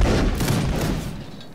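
A massed musket volley in the video game Mount and Musket, a single loud ragged crash of many shots fired together that rolls out and fades over about a second.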